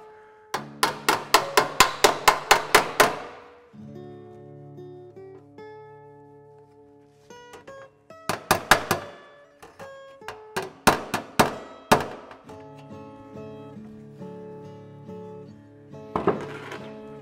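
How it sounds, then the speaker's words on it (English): A crowned hammer strikes sheet metal held against a dolly during dent repair, giving quick bursts of bright ringing metallic blows, each burst of about five to ten rapid hits, with pauses that let the metal ring out. "I'm changing my hammer to one with a little bit more crown just to work right in that area"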